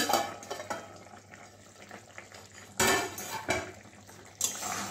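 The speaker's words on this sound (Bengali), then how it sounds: "এবারে ঢাকনাটা খুলছি।" A lid lifted off a cooking pot of soybean bori curry, giving several sharp metallic clanks and scrapes over a low kitchen hum, with a final clink near the end.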